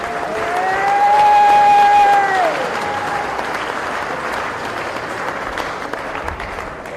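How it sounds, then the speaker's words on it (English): Audience applause at the 2021 Motorcycle Cannonball awards ceremony, a steady crowd clapping that swells early then settles, with a sustained tonal whine and some voices mixed in. "give these guys a round of applause"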